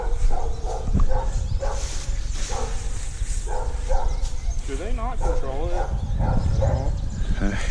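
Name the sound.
neighbor's dog barking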